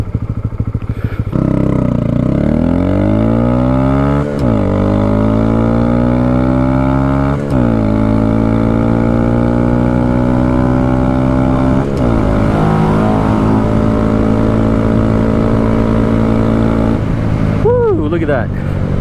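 Honda Grom motorcycle engine revving loudly up and down through quick, smooth clutch shifts fitted with a one-finger stunt clutch lever, with sharp pitch drops at each shift over about nineteen seconds, close to the microphone.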